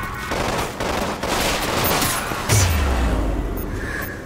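Rapid automatic gunfire in the shooter game Resident Evil Umbrella Corps, loud and continuous bursts, with a heavy low boom partway through.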